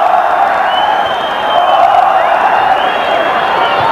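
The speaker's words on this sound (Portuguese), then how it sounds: "E a torcida volta a gritar olé" A stadium crowd at a 1999 Brazilian championship match between Palmeiras and Corinthians chants olé in unison, a loud, sustained mass of voices swelling and easing over several seconds.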